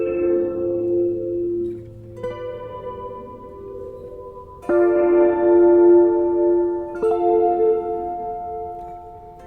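A guitar played through an Arturia filter plugin rings out sustained chords, with new notes struck every couple of seconds and a smooth, processed, slightly echoing tone, alone without speech.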